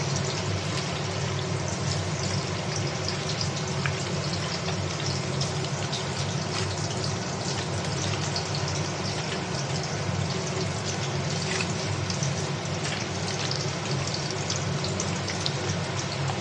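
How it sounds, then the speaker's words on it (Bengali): Onions frying in a pan for a chicken recipe, a constant dense hiss and crackle of hot oil that stays loud and even without pause, with no voices. "তোমার পেঁয়াজটা ভাজা হচ্ছে"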